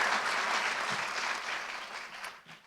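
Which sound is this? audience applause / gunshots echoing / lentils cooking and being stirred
audience applause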